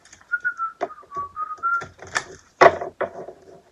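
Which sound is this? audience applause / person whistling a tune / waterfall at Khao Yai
person whistling a tune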